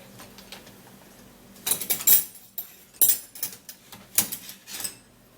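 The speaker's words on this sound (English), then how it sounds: "we're going to be getting a bowl, and then you're going to be putting the seed into the bowl" Seeds dropping and clinking into a bowl in bursts, with a quiet start followed by several clusters of small, sharp rattles at close range and no talking.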